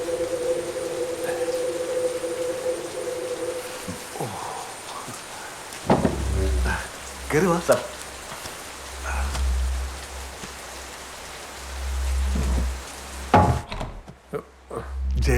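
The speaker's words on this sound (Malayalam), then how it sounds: "നല്ല മഴ." Heavy rain pours steadily throughout, broken by dull thuds, knocks and a low rumble, with someone briefly speaking over the downpour.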